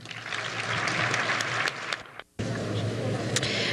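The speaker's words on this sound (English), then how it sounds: "Let's have a round of applause" An audience at a science fair awards evening applauds junior division winners, steady full-room clapping with a brief dip in the middle before resuming just as strongly, and faint voices underneath.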